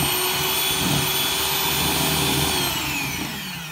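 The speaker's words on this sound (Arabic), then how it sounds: "هلأ بخفقهم مع بعض على سرعة خفيفة" Electric hand mixer whisking butter at low speed, a steady whirring motor hum with high-pitched whine, continuous and fairly close, easing slightly at the end.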